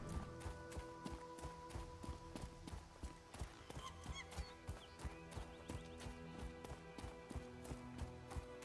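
Horse hooves in the video game Elder Scrolls Online, a steady rhythmic clip-clop of a running horse repeating throughout over a musical game backdrop.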